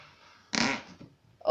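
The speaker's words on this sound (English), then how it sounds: "the fairy slime farts" Slime squeezed to make a loud, wet farting noise, one burst of about a third of a second, followed by a few soft squelches and a sharp voice at the end.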